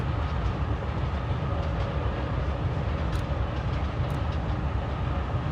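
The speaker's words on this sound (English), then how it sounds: "it would explain why the train was delayed" A train running in the video game Forgotton Anne: a steady, close rumble of rolling wagons holds throughout, with faint clicking on top and no talking.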